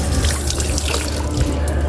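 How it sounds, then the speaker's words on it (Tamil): Water pours down heavily like a waterfall, making a steady, close, rushing and splashing sound that stays loud throughout, with no voices. "என்னங்க இது அருவி மாதிரி கொட்டிட்டு இருக்குது"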